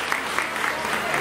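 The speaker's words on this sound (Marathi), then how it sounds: "ताईंच्या वतीनं टाळ्या वाजवल्या ताईंसाठी" Brief burst of steady applause from a crowd at a village Home Minister event in Lakhmapur, Satana, clapping for a woman, dense and continuous.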